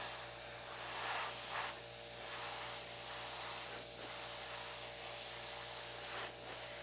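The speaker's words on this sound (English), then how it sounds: "And when we're done spraying here" Airbrush spraying paint onto a 1/35 Tamiya Sherman tank model, a faint, continuous hiss in several short passes of rising and falling intensity, no talking.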